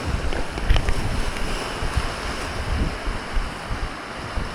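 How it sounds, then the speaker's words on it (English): Storm surf crashing hard onto a beach at night, with strong wind gusting across the microphone; a dense, continuous roar of waves and wind without talk. "waves are crashing hard on the beach"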